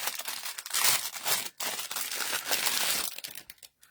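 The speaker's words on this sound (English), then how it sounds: "So we're going to die cut that." A piece of paper is die cut in a short burst of crunchy, crinkling pressure noise with a brief gap partway through, close up and without talk.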